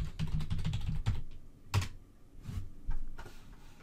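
Close, fairly quiet clicking of keys as a password is typed on a computer keyboard while a Cisco switch is configured, a quick flurry of keystrokes followed by a few sparser taps, with no talking.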